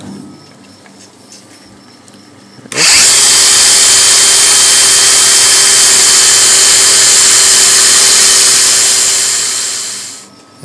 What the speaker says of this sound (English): This is my angle grinder. The sanding pad on the end.